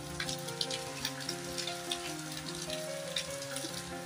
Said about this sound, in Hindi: कल रात से ही इतनी तेज़ बारिश हो रही है